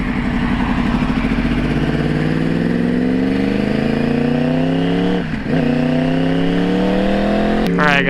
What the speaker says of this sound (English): So this exhaust, man, sounds really good